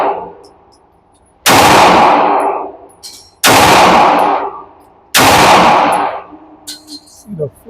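Three loud, sharp gunshots from a ported pistol, an S&W Metal Carry Comp or a Canik, ring out a couple of seconds apart outdoors, each trailing off in a long echo.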